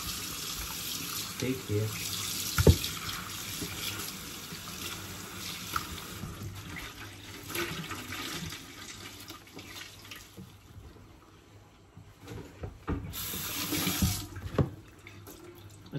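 Tap water runs steadily into a kitchen sink while a strip-loin steak is washed, a continuous splashing hiss with brief clatters, and someone talks briefly near the start.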